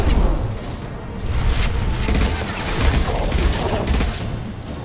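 Assault rifle burst fire in the video game Mass Effect 2, loud and close, with rapid clustered shots rattling over a booming, crashing battle background throughout.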